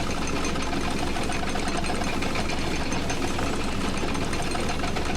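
The Bucket Destroyer machine in the video game The Stanley Parable runs with a dense, steady mechanical drone and rattle, loud and constant throughout, with no talking.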